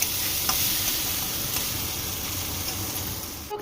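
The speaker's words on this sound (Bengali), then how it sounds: "গোবিন্দভোগ চাল দিয়ে আর একবার খুব ভালো করে কষিয়ে নিতে হবে।" Gobindobhog rice stir-fried in a pan for muri ghonto, giving a steady close sizzle with soft scraping stirs throughout and no voices.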